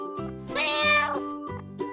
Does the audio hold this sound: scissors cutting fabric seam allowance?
no